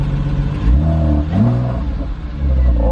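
A Porsche RS60 Spyder, a flood-damaged salvage-auction car, revs its sport exhaust in a few loud, rising engine bursts close to the car, with no talking.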